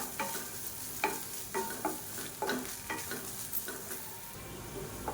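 Grated coconut roasting in a pan for aval puttu: rhythmic spatula strokes scrape the pan about twice a second over a soft, continuous sizzle, close and alone without voices.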